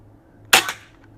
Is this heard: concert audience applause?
no